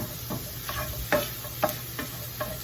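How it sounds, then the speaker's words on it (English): Ground pork sausage seasoned with red pepper browns in a pan, a low sizzle under a few soft scrapes and stirring taps that come at irregular intervals, close and fairly quiet. "Just let that continue to brown, and there we have our brown pork sausage"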